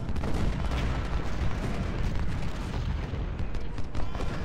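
Dense, continuous musket volleys and artillery fire from a Civil War battle in the strategy game Ultimate General Civil War, a steady rolling crackle of gunshots and booms with no pauses.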